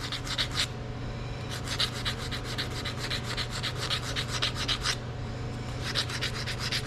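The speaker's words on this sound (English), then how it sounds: "I am going to take just a little piece of sandpaper and clean up that sharp edge a little bit" Sandpaper rubs back and forth by hand over a sharp metal edge on a 10-bolt 7.5-inch El Camino rear axle part, a rapid rhythmic scratching in steady strokes with a brief pause, close and fairly loud.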